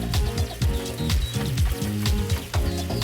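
A patty melt sandwich sizzles in butter in a pan after being flipped, a loud, steady frying crackle heard close up with no talking.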